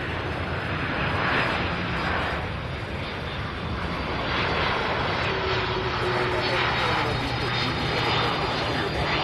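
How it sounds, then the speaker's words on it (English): An MD-11 airliner's engines roar at an airport during plane spotting, a loud broad rush that swells and fades across the stretch, with faint talk underneath. "And I knew this MD-11 was coming,"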